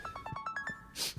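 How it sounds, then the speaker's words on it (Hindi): A mobile phone rings with an incoming call, a short repeating electronic ringtone of regular chiming pulses at moderate level, followed by a brief bright burst of noise near the end. "हारून कॉल कर रहा है।"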